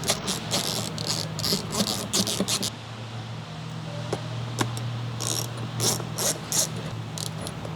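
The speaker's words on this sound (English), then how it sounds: "Using the small ratcheting wrench and spinner handle and 6mm socket. Remove the bolts here." A small ratcheting wrench with a spinner handle and 6mm socket loosens bolts on the right rear door of a 2013-2016 Ford Fusion, giving bursts of rapid close clicking ratchet strokes with a pause midway and no talk.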